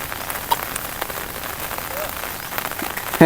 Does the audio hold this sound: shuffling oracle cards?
no